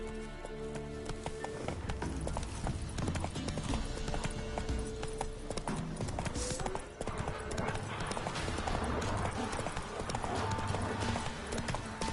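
Hooves of Roach, the horse in The Witcher 3, clip-clop in a steady trotting rhythm, moderately loud, over game ambience and music with a faint neigh.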